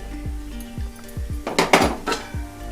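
Lid being put on the pan while making carrot halwa, a series of metallic clanks and rattles, several bright rings close together near the end, with low knocks beforehand.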